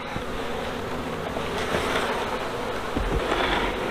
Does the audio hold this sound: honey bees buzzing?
yes